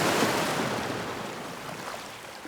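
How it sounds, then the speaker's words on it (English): Ocean waves crash against sea cliffs at a quiet Negril seaside resort, a steady broadband roar of surf that swells loudly at the start and eases slightly, with a light breezy hiss and no voices. "just the sound of waves crashing against the cliffs"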